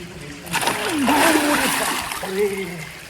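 A person lowers into the hot spring water at Bakreshwar temple, with close splashing and gurgling as the water is disturbed, while a voice talks and exclaims over it.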